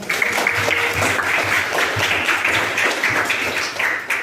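A classroom of students in a history lesson applauds together, a dense, steady wash of many hands clapping for about four seconds, close and loud, with no voices on top.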